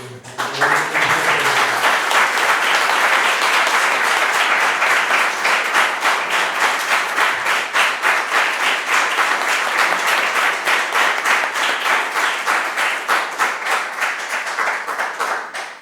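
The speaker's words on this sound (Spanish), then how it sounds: "pido un aplauso para Arnaud" Audience applause for a French Hispanist, Arnaud Imatz, after his introduction at a talk; after a brief voice at the start, a long, loud round of clapping from many hands holds steady, then thins slightly toward the end.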